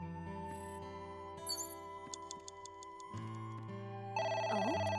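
A telephone rings in AI: The Somnium Files as short, faint bursts over a bed of synth music, with the ring growing more prominent toward the end.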